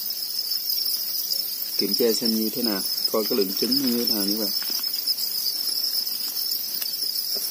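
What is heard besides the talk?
Thai field crickets chirping in breeding tray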